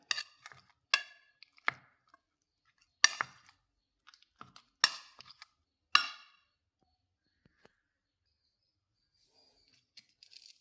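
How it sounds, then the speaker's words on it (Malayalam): Bananas mashed in a bowl with the edge of a vessel, heard as a series of sharp clinks and knocks in irregular bursts, close and fairly loud, with a quiet pause between groups and no talking. "നമുക്കൊരു പാത്രത്തിൻ്റെ ഇത് വെച്ച് ചെറുതായിട്ടൊന്ന് ഉടച്ചെടുക്കാം"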